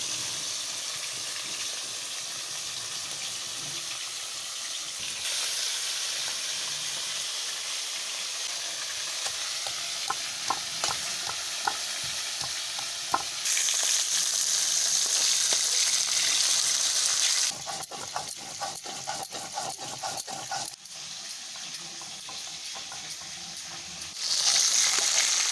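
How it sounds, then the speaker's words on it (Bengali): Fish sizzles and fries in hot oil in a pan, a continuous crackling hiss that surges louder in bursts as pieces are stirred or turned, close and steady throughout. "মাছগুলো এদিকে ভাজা হতে হতে"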